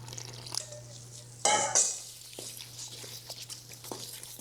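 Twenty-eight ounces of water pour into focaccia dough in a bowl, a short splashy burst of liquid followed by scattered faint drips and small sloshing sounds, with a steady low hum underneath.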